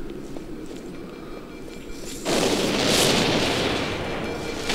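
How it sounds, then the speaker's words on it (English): Explosion in the video game Halo: Combat Evolved, a sudden loud boom that bursts in and then rolls on as a sustained roar and rumble, following a quieter stretch of background noise. "Oh, now that's an explosion."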